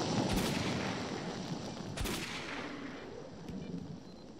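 Gunshots from the video game S.T.A.L.K.E.R.: Call of Pripyat: a few sharp, separate cracks over a noisy, rumbling game ambience, with the loudest report near the middle.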